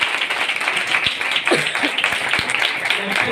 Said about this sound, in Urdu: تالی یعنی کہ زوردار بجایا کرے۔